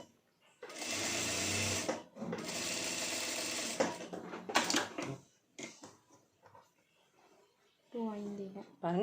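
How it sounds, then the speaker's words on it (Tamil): A sewing machine runs in two long bursts, stitching cross tucks in fabric with a fast, steady mechanical whir, followed by softer handling sounds and someone speaking. "நம்ம ட்ரேப் பண்ணி நல்லா அயன் பண்ணி அதுக்கப்புறம் வந்து இதில் ஸ்டிச் பண்ணிகிட்ருக்கோம்"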